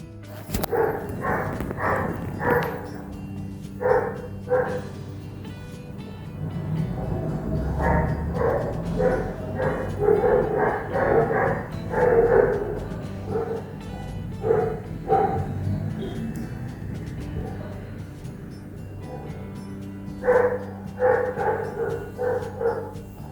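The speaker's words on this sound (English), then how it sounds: "now listen to what I hear 24/7 with the dogs next door" Neighbouring dogs bark repeatedly from a short distance, in bursts separated by brief pauses, sometimes several barks in quick succession.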